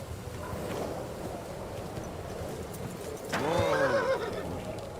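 A horse neighs loudly and close in the medieval video game Kingdom Come: Deliverance 2, a single rising whinny near the end that follows a stretch of quiet ambient rumble and soft hoof sounds.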